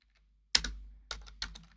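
A few quick keystrokes on a computer keyboard while writing a database query, sharp clicks arriving in small clusters after a brief silence, close and clear with nobody speaking.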